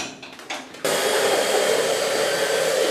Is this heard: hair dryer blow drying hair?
yes